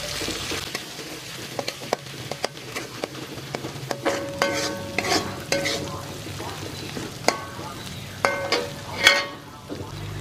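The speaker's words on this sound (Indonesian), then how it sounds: "kalian panasin minyak secukupnya buat numis bumbunya. Tumis aja sampai semua bumbunya matang." Spice paste sautéing in hot oil while being stirred for stir-fried young papaya, with a continuous sizzle and repeated sharp clinks and scrapes of a utensil against the pan, close and without talk.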